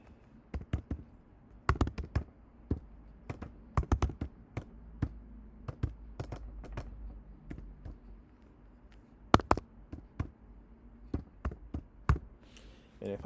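Someone types HTML code on a computer keyboard, producing irregular bursts of close, sharp key taps with pauses between clusters over a quiet background and no speech.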